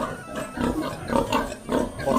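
A pig on a small village home farm gives repeated low grunts close by, several rhythmic pulses in a short burst with no one talking.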